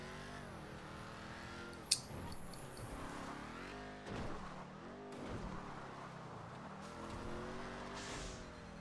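A car driving in Grand Theft Auto V, a steady engine drone rising and falling in pitch as it accelerates and shifts, with one brief sharp knock near the start, fairly quiet overall.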